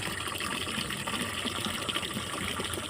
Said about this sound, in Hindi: कूलर में बाल्टी से पानी ना डालना पड़े तो ये वाला पाइप लगा दिया है